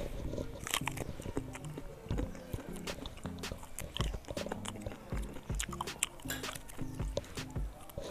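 Someone bites and chews cooked jackfruit close to the mic, with soft, repeated crunchy chewing sounds and little else.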